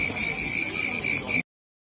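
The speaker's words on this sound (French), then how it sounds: "il écoute le chant des grillons" Dense, shrill chirping of many caged crickets fills a cricket market in China, a continuous high buzzing chorus, loud and close, cutting off abruptly into silence near the end.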